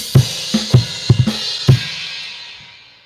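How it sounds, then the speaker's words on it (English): Drum cymbals bashed in a quick run of loud hits, about six crashes in three seconds, each with a bright wash that rings out and slowly fades. "and then it's more cymbal bashing"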